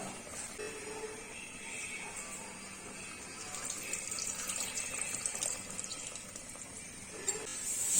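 Tamarind water being poured in a steady, quiet trickling stream that grows slightly louder toward the end, with no speech.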